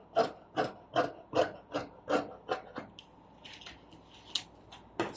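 Scissors snip through trouser fabric in a quick run of six or seven rhythmic crunching cuts up close, followed by a few quieter, scattered snips.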